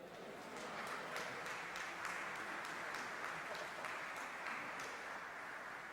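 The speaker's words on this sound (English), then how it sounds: "Let us give Sister Kenya Muhammad and Brother Yakoya Muhammad another round of applause" A seated audience at a religious gathering gives a steady round of applause, a dense, even wash of many hands clapping together, continuous and somewhat distant, with no one speaking over it.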